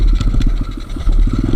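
A small motorcycle engine chugs up close in steady rapid pulses as it rides a rough mountain off-road trail from Benguet to Pangasinan, with rattling clatter over the rocky ground and no talking.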